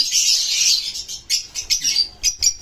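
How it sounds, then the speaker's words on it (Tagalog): A hen calls in a run of high, quick chirps and tweets at close range. The short bursts come in an uneven rhythm with brief gaps between them. "Yan yung hen."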